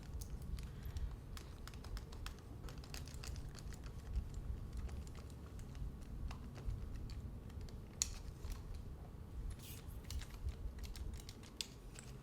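A thermal curling iron clicks again and again while hair is wound into spiral curls, giving a dense run of close, rapid clicks throughout with no speech.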